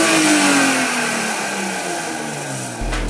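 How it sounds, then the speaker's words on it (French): A BMW E36 engine revs hard, its pitch sweeping down through the gears at close range before a brief pause and a low rumble at the end, loud with no talk over it. "C'est parti, une deuxième E36 BMW."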